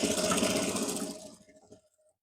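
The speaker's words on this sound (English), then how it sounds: "then you continue your curve with sewing from there." Sewing machine stitching the crotch curve of a pair of joggers, running in a fast steady whir for over a second before slowing and stopping, close with no speech.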